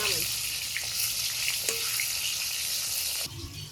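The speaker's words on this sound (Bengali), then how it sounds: "মাছের 1 পিস ভাজা হয়ে গেছে" Rohu fish pieces fry in hot oil in a pan, giving a steady, close, loud sizzle with a few faint clinks, then dropping slightly quieter near the end.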